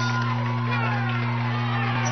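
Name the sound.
softball crowd cheering after a double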